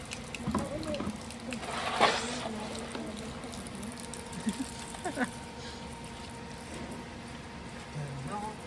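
Water splashes and runs as school clothes are rinsed by hand during laundry, with intermittent sloshing bursts that are loudest near the start and voices talking nearby.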